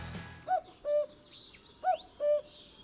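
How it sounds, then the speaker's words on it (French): Common cuckoo calling in the countryside, two clear two-note 'cuck-oo' calls repeated in an even rhythm, fairly faint and distant, with other birds chirping softly behind. "S'il y a bien un oiseau dont tout le monde connaît le chant, c'est bien lui. Le coucou"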